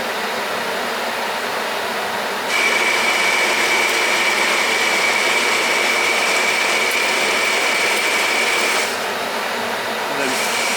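Metal lathe turning a part at about 600 RPM with a 25-thou cut per side, a loud steady whine and hiss that steps up in intensity, holds for several seconds, then drops back.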